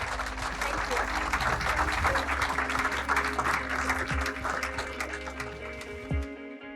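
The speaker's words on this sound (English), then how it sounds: "Another round of applause for the women of the Hub Community Kitchen" Applause from a lunch crowd honouring the women of the Hub Community Kitchen, steady clapping for several seconds over a low hum and some background voices, tapering toward the end.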